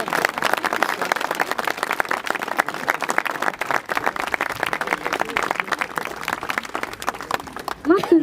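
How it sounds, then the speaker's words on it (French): Crowd applauding schoolchildren outdoors at a children's rights trail inauguration in Chaumousey, sustained dense clapping with a voice surfacing near the end. "Applaudissez-les bien fort."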